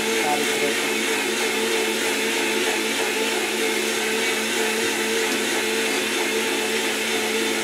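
A mixer grinder churns fish curry paste for a glass-rock fish curry in a home kitchen, giving a loud, steady whirring drone that runs unbroken from start to finish.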